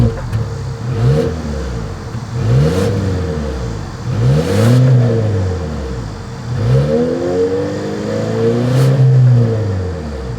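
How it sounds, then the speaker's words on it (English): A 2025 Volvo XC40 revs up in several loud, rising-and-falling exhaust sweeps, close by, each climbing then easing back down between blips. "As always, here is that exhaust clip."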